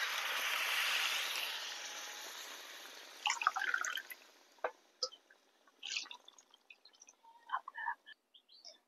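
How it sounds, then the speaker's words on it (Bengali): Water poured into a cooking pot of spiced potato and taro curry with bata fish: a broad rushing pour fading after a few seconds, then scattered drips and small splashes, quiet and close. "কষানো হয়ে গেছে, এবার আমি এর মধ্যে জল দিয়ে দেবো।"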